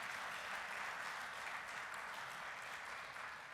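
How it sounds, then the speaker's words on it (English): Audience applause for a radio announcer at an awards ceremony, a steady, dense wash of clapping that holds evenly for several seconds without fading. "Let's give him a round of applause."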